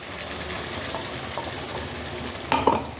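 Whisked sour yogurt goes into masala frying in oil, a constant close sizzle that flares into a louder burst with spoon stirring near the end.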